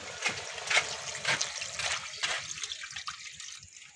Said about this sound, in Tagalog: At saka lagyan po ng tubig.